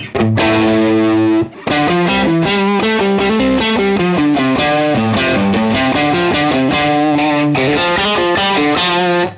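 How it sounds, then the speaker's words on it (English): Heavily distorted electric guitar plays chunky, saturated chords and riffs, loud and continuous, with a short pause early on. "It's a very high gain, tube-like overdrive sound. It sounds very chunky and I love it."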